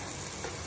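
Mutton hitting hot ginger garlic paste in a cooker pot, giving a brief, steady, close hiss of sizzling with no voices.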